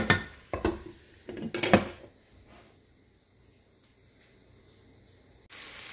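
Rice and spices stirred in a pot, with a spoon clinking and scraping against metal in quick bursts for about two seconds before the sound drops to near silence.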